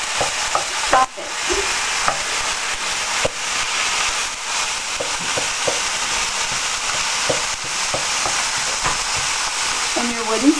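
Ground hamburger meat frying in a pan, sizzling and crackling steadily while a wooden spoon scrapes and stirs, close and busy, with occasional sharper pops and brief voices in the background.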